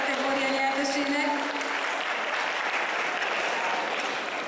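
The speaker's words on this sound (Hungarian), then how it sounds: "Nagy tapsot kérek szépen a legjobb kosztüm kategória nyertesének." Loud, sustained applause from a convention crowd honoring the best costume winner at a cosplay contest, a dense wash of clapping with a few voices briefly audible at the start.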